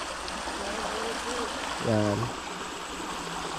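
Cold, clear water runs steadily over a rocky bed in a stream, a continuous rushing wash, while a person talks briefly over it.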